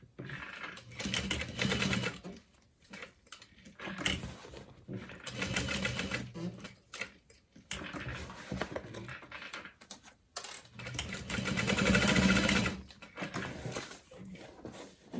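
A sewing machine runs a box stitch on a bag at a long stitch length, in bursts of steady rapid needle clatter broken by short pauses for pivoting, close and clear.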